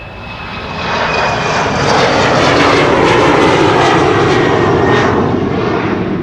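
An Embraer 190 jet airliner departs Amsterdam Schiphol Airport, its engines swelling into a loud, broad roar that holds steady and close for several seconds.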